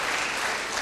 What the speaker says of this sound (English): You have to give him a round of applause,